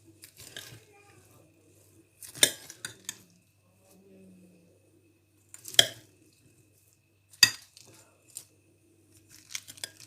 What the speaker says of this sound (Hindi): तो यहाँ पर मैं इसको अच्छे से मिक्स करूँगी अब